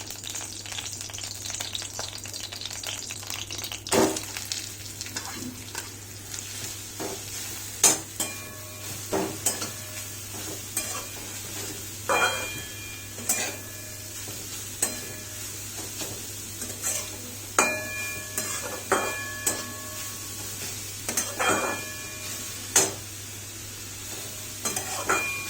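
Bay leaves frying in ghee in a pan for Bengali pumpkin halwa, with steady soft sizzling and intermittent scraping and clinking of a spoon stirring, close and moderately quiet, no voices.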